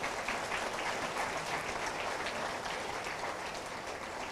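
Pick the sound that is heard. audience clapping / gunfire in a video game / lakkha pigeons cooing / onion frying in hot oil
audience clapping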